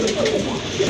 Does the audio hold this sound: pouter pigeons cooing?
yes